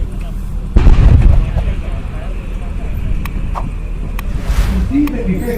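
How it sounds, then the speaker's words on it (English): Artillery guns fire a volley of rounds at a target area during a firepower demonstration: a loud heavy boom and sustained rumbling roar that persist across the clip, with no talk. "these guns have been brought into action and are now ready to surprise the unsuspecting enemy with a volley of rounds in area Diamond"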